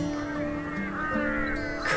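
Video game birds in Shardlight honk a few times at moderate loudness over a constant background drone, with a brighter call cutting in right at the end.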